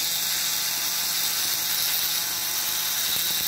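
A model train's gear mechanism runs on a wooden table, giving off a steady, fast mechanical ratcheting whir with a high hiss, loud and close and constant throughout, no voices.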